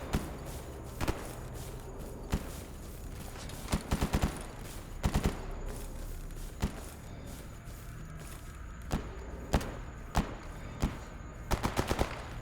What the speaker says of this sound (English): Why are you shooting at me, dude?